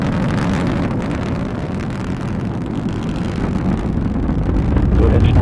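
Atlas V rocket engine at full thrust during ascent, a steady, loud broadband roar with low rumble and wind-like buffeting that swells slightly toward the end.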